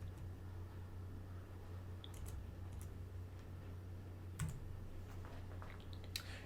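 Faint, sparse keystrokes tap on a computer keyboard as a font size is entered, a few isolated clicks over a steady low electrical hum, with no talking.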